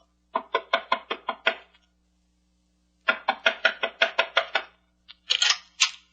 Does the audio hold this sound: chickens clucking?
no